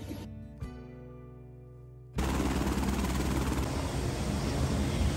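A tour helicopter at a heliport on Maui starts loud and close after a short stretch of quieter hum with a couple of knocks, then its rotor and turbine roar steadily at full volume.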